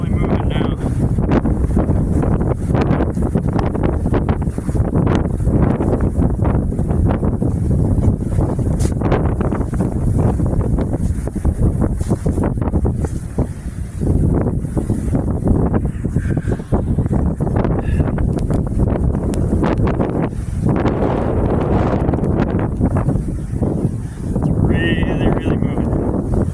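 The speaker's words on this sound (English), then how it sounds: "The wind is really moving now." Strong wind roars outdoors during a Midwest snowstorm, buffeting the microphone with loud, continuous rumbling gusts that barely let up. A voice is partly buried under the noise.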